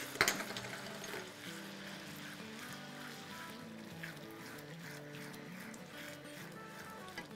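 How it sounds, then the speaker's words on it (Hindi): Yogurt fries in a pot for prawn pulao, giving a faint, steady sizzle and bubbling with a sharp knock at the start, quiet and close. "अब हम इसमें दही डाल देंगे"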